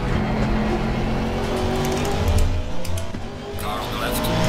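Race cars in the sim racing game Assetto Corsa Competizione, engines roaring steadily as another car draws alongside and passes close by, with a person talking over the engine noise.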